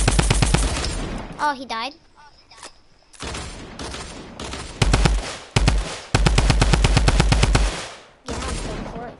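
Video game gunfire comes in rapid automatic bursts, broken by short pauses, from a solos match. A player speaks briefly between the volleys.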